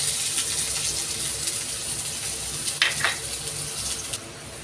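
Chopped onion and coriander leaves fry together in a pan over lowered heat, following dried chillies. A steady, close sizzle runs throughout, with a few brief stirring scrapes near the end.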